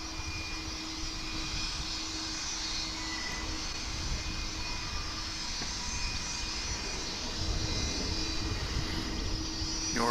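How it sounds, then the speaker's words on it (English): Fixed-wing airplane arriving from Waco at Dallas/Fort Worth International Airport, a steady broad engine roar with a faint high whine, sustained and fairly even throughout with no talking. "Here's the flight from, I believe it was Waco?"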